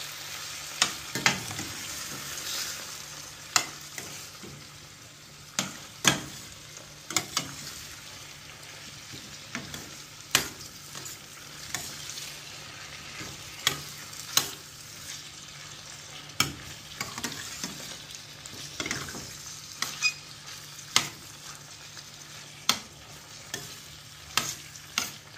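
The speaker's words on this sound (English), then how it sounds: "so get in the ackee now. I'll give it a stir." Ackee cooking in a pot with a soft, low sizzle under repeated stirring, scattered spoon knocks and scrapes recurring every few seconds.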